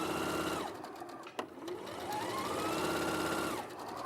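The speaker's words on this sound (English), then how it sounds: "That wasn't me, it was a sewing machine." A sewing machine runs in rapid, continuous stitching bursts. There is a brief pause and a click in the middle before the whirring resumes and speeds up. It is fairly close, with no talking over it.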